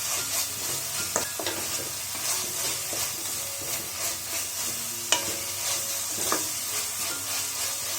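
Masala with chopped coriander leaves sizzles and fries in a pan for green gram rice while a spoon stirs it, giving a steady close crackle broken by occasional scraping clicks, with no voices.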